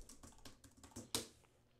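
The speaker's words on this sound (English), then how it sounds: "Sorry for my lack of typing skills" Typing on a computer keyboard, a quick run of close, crisp key clicks with one louder keystroke near the end, no talk.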